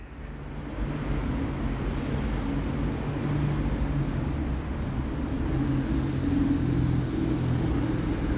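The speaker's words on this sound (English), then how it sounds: "I am driving down the farm track to go and get Kenzie from school." A car rolls along a farm track, its engine a low steady rumble with broadband road and tyre noise, moderately loud and continuous with no talking.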